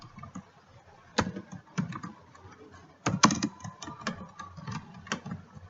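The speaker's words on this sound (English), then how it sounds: "type in your" Keys tapped on a computer keyboard in short uneven bursts, with sharper clicks clustered around the middle, fairly close and fairly quiet.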